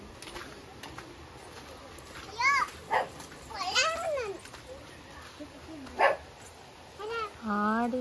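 A dog barks outdoors in a rural village yard where goats are kept, giving several separate barks and yelps at moderate distance, with children's voices nearby.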